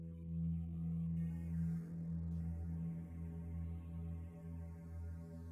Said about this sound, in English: this one starts with a pad I created